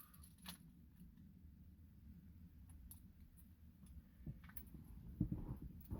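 Keys jangling on a keyring carried as everyday gear, soft metallic clinks scattered through the clip with a brief louder jingle near the end, heard close up over a low background rumble.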